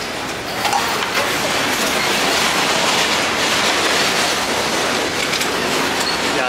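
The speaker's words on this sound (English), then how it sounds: "that was a freight train." Loud, continuous rumble and rattle of a freight train rolling past nearby, a steady broadband roar with faint clanking throughout, no speech.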